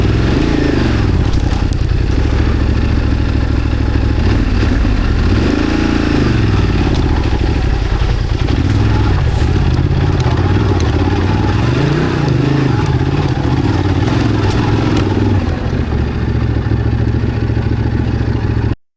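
A Ducati DesertX 950cc motorcycle ridden hard off-road on UK trails gives a loud, continuous engine roar that rises and falls with throttle, mixed with rattles, scrapes and rough terrain noise throughout.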